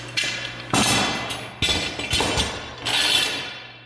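Woodworking clamps clatter and clink as they are picked up and handled in a workshop before gluing a book-matched top, several loud metallic knocks in separate bursts, with no talking.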